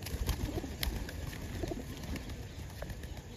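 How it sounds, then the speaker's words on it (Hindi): A pigeon in a bush gives low soft coos in short repeated pulses, close but quiet, with a few brief rustles and chirps mixed in. "देखो झाड़ पात में है कबूतर"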